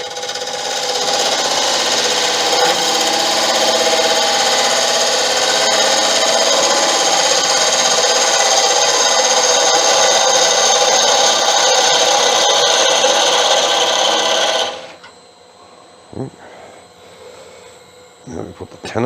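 Irish bog oak blank turning on a wood lathe as a tenon is squared off, a loud, steady scraping and cutting roar lasting about fifteen seconds before stopping abruptly, followed by a few faint knocks and handling sounds.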